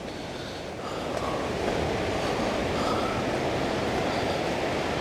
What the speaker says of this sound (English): You can hear the rushing of the water right down there.